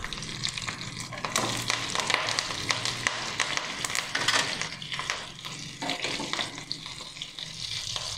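Green chili and curry leaves fry in hot oil in a pan while foxtail millet pongal is cooked, giving a continuous crackling sizzle with scrapes of stirring throughout.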